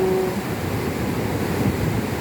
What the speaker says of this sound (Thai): วันนี้เข้ามาเยี่ยมชมน้ำตกในแองกาล่านะคะ